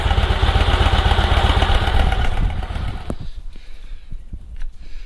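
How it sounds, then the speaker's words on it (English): Motorcycle engine idling with a rapid, loud pulsing beat, then cut off about three seconds in, leaving quiet clicks and faint background noise. "that's the engine switched off"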